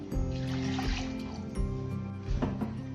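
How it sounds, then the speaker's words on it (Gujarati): Half a glass of water pours into a mixer jar holding cut beetroot, a short close splashing gurgle over a low steady hum. "અડધા ગ્લાસ પાણી નાખીએ."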